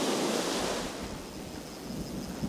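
Ocean waves breaking on a beach, a broad hissing wash of surf close by, with wind buffeting the microphone as the surge rises and eases.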